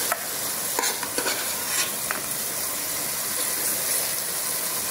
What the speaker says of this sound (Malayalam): അതിൽ നിന്ന് കുറച്ച് മസാല ഞാനിപ്പോൾ മാറ്റി എടുക്കുകയാണ്